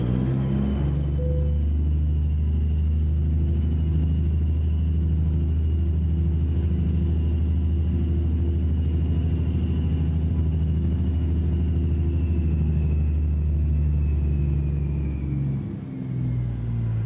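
Peterbilt 589 truck in a truck-driving video game, its engine giving a deep, steady rumble with a faint high whine riding above, a constant drone that dips briefly near the end.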